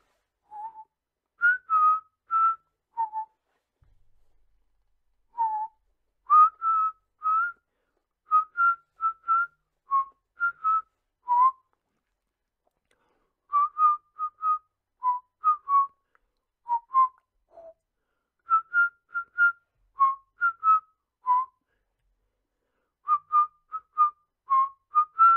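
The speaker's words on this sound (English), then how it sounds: "The music also changes, being pleasantly whistled by Luigi" Luigi from the Luigi's Mansion video game whistles the music, a clear, pleasant melody of short phrases and sustained notes with brief pauses between them, alone in silence.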